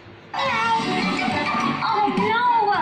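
A cat lets out a long, loud drawn-out meow close by, followed by a second rising meow right after, with a voice murmuring faintly underneath.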